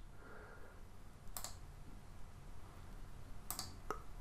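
A computer mouse gives a few crisp, isolated clicks, roughly two seconds apart with a quick double near the end, over a quiet room background with no speech.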